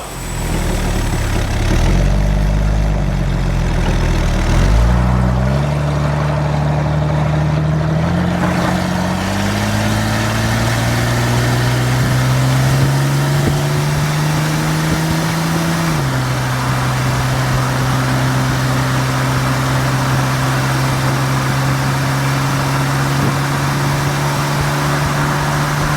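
A car engine running before its first drive, a loud, close, steady drone whose pitch steps up and down a few times as it is revved, then settles into an even idle.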